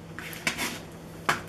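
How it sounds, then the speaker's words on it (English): Tomatoes tossed into a bowl for guacamole, two or three soft, close knocks and clatters against the bowl in an otherwise quiet kitchen. "So I'm going to throw some tomatoes in there."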